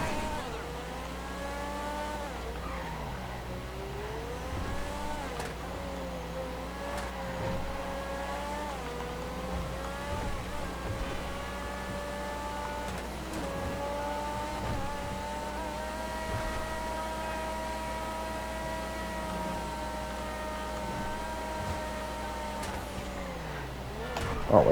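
A car drives in the video game GTA V, its engine humming steadily with gear shifts and rising revs, moderately loud throughout.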